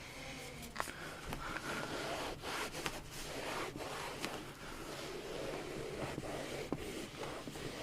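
A microfiber cloth rubs and wipes across the interior surfaces of a Seat Leon Cupra Mk2, giving steady, close, scratchy friction with a few sharper strokes and taps along the way.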